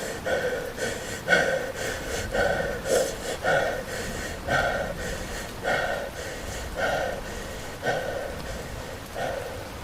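Agonizing, ragged breathing repeats about ten times at a steady pace, each gasping inhale or exhale close and harsh, over a faint hissing background with no speech.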